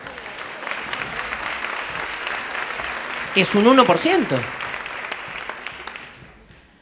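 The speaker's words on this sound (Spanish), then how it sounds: "ya que aplaudimos todos" Steady audience applause during a lecture, a dense continuous clapping that fills the room, with a voice speaking briefly over it midway before the clapping fades out.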